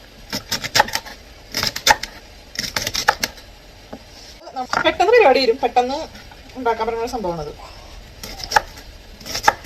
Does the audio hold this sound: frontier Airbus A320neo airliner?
no